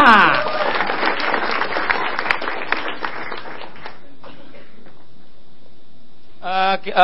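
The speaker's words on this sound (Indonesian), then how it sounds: "Boleh tepuk tangan buat Krisna." Audience at a stand-up comedy battle show applauds a second contestant, Krisna; dense clapping fills the first four seconds, then dies away into near silence before a voice speaks at the end.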